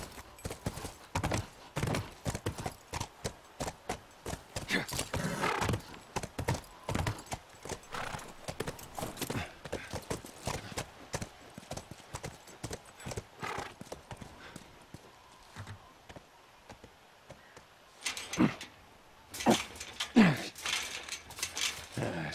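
Rapid hoofbeats of a horse in the video game The Last of Us Remastered clatter in a continuous galloping rhythm, fairly close, then slow and pause before a few louder thuds and a whinny.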